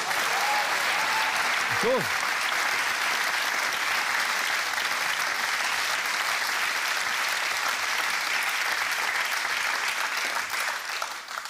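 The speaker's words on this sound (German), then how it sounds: "Den Applaus schneiden wir raus." Studio audience at a late-night stand-up comedy show breaks into sustained, dense applause, loud and even across the whole stretch, with a brief voice near the start.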